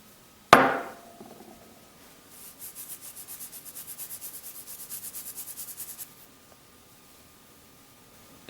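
Small pieces of charred material being crushed into dry powder for an epoxy mix, giving one sharp knock followed by a steady run of close, rhythmic grinding strokes that stop abruptly.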